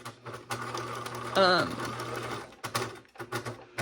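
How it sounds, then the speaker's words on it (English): A sewing machine stitching a pocket divider on a caddy bag, its rapid mechanical whirring running in bursts with short pauses and backstitching, close and loud while someone talks over it. "And I am definitely backstitching on this one."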